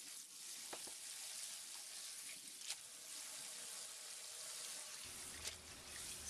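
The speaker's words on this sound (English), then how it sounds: "I'm just going to bring this over to the sink and rinse it. Immediately hit it with cold water." A kitchen sink tap runs cold water over freshly drained Korean glass noodles for jap chae, a steady hissing rush with small splashes and clinks, close by and without voices.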